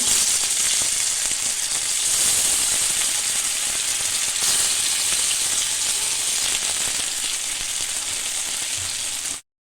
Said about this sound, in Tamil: நம்ம எடுத்து வச்சுருக்க மீனை அப்படியே வச்சுக்கலாங்க ஆயிலில்